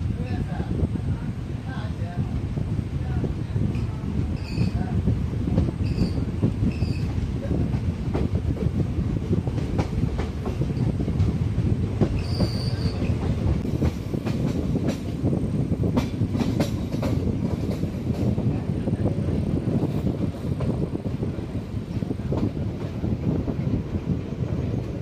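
Erode-Jolarpettai passenger train running, a steady loud rumble of rolling wagons with wind buffeting and faint clickety-clack, with people talking over it throughout.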